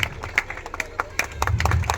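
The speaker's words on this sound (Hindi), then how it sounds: "आगे बढ़ाइए जोरदार ताली बजाइए" Audience claps for a panchayat head at an Urs gathering in a Bihar village, a short burst of scattered, uneven hand claps from a modest crowd, with some background murmur and a low hum.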